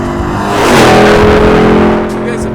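A Sandblast Edition Hennessey Mammoth 1000 TRX pickup with 1000 hp and four people aboard roars hard from a standstill toward 105 mph. The loud engine note swells and rises steadily, then eases slightly near the end.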